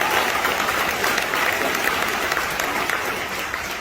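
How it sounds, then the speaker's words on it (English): A graduation audience applauds the teachers at a high school ceremony: a thick, even wash of clapping from a large crowd, steady and loud throughout the short burst. "Can you give your teachers a round of applause?"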